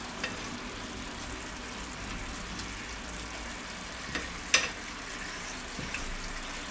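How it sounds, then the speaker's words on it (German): Onions simmer and reduce in a Jack Daniel's-style sauce, giving a steady, fine sizzle and bubbling at low level, with a faint clink or stir near the middle; no voices. "die Jackie-Soße einreduziert, dass wir hier noch Farbe hinbekommen"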